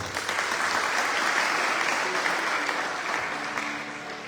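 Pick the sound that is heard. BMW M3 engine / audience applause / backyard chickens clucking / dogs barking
audience applause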